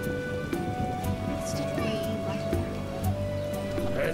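Steady rain in the video game The Witcher patters on surfaces under faint game music, with occasional soft rumbles in the background.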